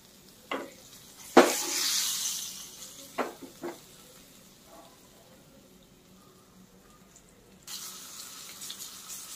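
Pomfret fish frying crisply in plenty of oil in a pan, a close sizzle that flares loudly early on, then settles into quieter crackling with occasional spurts and a renewed hiss near the end.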